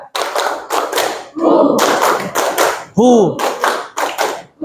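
Classroom group clapping game, an ice-breaking concentration exercise in a teacher coaching session: bursts of rhythmic group hand clapping in counted patterns, close and loud, with brief spoken cues between them.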